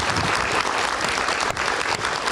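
A studio audience at a political talk show gives loud, dense applause for a newly arrived party-official panelist, a short continuous burst of clapping without speech.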